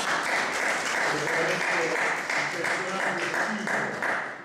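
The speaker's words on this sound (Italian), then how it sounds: "io direi un minimo applauso" An audience at a cultural news programme gives a short round of applause, a steady patter of clapping with a voice speaking over it.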